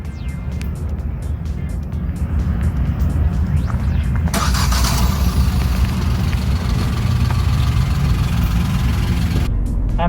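Kia Sonet with a 1-liter turbo petrol engine and 7DCT transmission running, a steady low rumble that swells into a louder, broader roar midway and holds to the end, heard from close by without talk.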